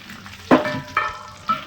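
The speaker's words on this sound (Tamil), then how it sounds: "முதல்ல எண்ணெய் காஞ்ச உடனே வரமிளகாவை போட்டுக்கலாம்" Dried red chillies drop into hot oil in a pan, giving three short bursts of close sizzling spaced about half a second apart over a low background crackle.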